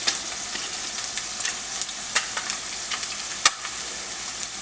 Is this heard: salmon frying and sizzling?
yes